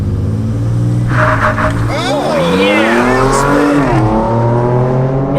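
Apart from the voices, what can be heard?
modern pickup truck accelerating hard from a launch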